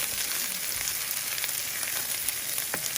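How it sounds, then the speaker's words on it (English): Ground beef and onions frying in a pan, giving a close, steady, loud sizzle with crackling and no pauses. "we're gonna go ahead and add our 2 pounds of ground beef, and we're gonna season to taste that with the garlic, salt, and black pepper"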